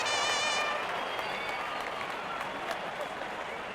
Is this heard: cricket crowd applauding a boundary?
yes